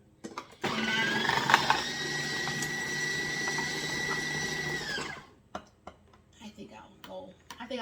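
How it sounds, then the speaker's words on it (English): A 13-cup KitchenAid food processor whirs steadily while chopping tomatoes, a loud continuous motor drone lasting about four seconds before cutting off, followed by scattered clicks and handling noises. "I'm going to go ahead and drop this in my 13 cup KitchenAid."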